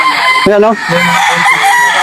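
A loud rooster crow rings out up close at a gamefowl farm in Tanauan, Batangas, with other chickens clucking around and a voice speaking briefly.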